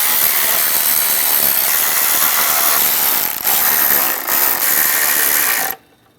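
A power tool runs the ignition coil bolts down snug on a Jeep Wrangler, giving a loud, steady mechanical whir up close with a couple of brief dips before it cuts off abruptly.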